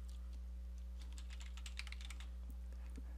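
Quiet typing on a computer keyboard, with a run of quick, faint key clicks over a low steady hum.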